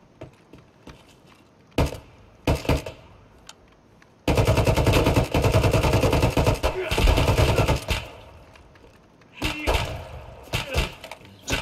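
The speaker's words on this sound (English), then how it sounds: "I'm getting shot from the right" Gunfire in a video game on the Shoreline map: a few scattered shots, then a long, loud stretch of sustained automatic fire, followed by more bursts near the end.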